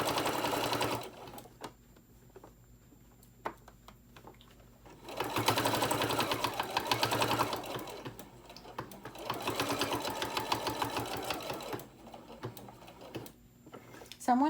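A Singer Modern Quilter sewing machine stitches in several bursts of rapid, rhythmic needle clatter, separated by quieter pauses with light handling noises.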